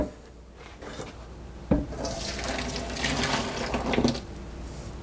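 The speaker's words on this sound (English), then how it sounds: "Then I'm going to grab my strainer, which is right here. Put it like that. And I'm going to go ahead and strain." Tomato soup pours through a strainer into a pan, a steady close splash and trickle with a clunk of metal partway through.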